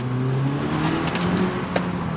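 An Audi S3 engine, fitted with fresh spark plugs after misfires, hums and revs upward, a steady droning tone that climbs in pitch, close and fairly loud.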